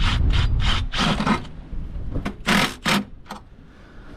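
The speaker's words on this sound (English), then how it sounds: "I'm just going to drill a wee hole here exactly where it sits" A drill bores a small hole to fix a hose mount during a tractor repair, heard close up as several short, rasping bursts separated by brief pauses.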